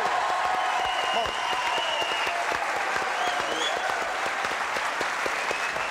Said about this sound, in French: Un gros applaudissement pour l'équipe de Saint-Marcelin pour Manuel